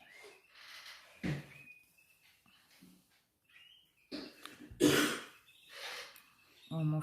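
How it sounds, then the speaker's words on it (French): A boy coughs and clears his throat in a quiet room: several separate bursts of varying strength with breathy pauses between them, heard close. "Oh, mon fils tousse toujours autant."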